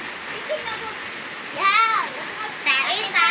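Rain falling on a rainy morning in Cebu makes a steady, even hiss throughout, with voices, including a child's, speaking over it.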